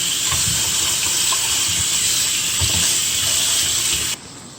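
Tap water runs steadily over lettuce leaves while rinsing in a kitchen, a close, continuous hissing splash with small irregular bursts as the leaves are handled, cutting off abruptly near the end.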